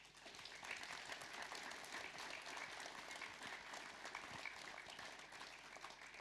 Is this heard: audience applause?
yes